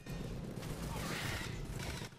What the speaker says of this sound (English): Someone's shooting rockets!